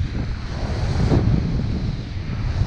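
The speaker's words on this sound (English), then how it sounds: "Lots of wind." Strong wind buffets the microphone on a beach, a steady loud rushing roar with surf blended underneath, continuous and close.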